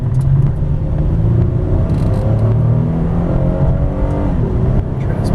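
A 2004 Saturn Vue AWD SUV accelerates hard, its engine rumbling loud and close from inside the cabin with rising harmonic sweeps marking each gear shift, continuous throughout.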